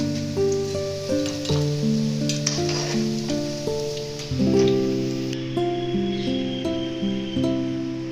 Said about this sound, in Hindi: इसे हम गोल्ड कलर होने तक फ्राई करेंगे अच्छी तरह से कुक हो जाए।